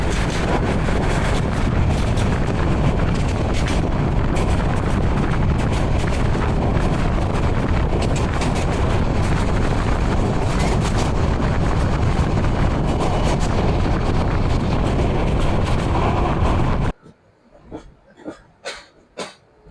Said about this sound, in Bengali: আমাদের ট্রেনটি বিমানবন্দর রেলওয়ে স্টেশনে প্রবেশ করলো সকাল আটটা দশ মিনিটে